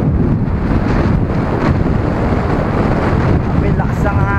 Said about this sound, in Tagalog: May lakas ang hangin dito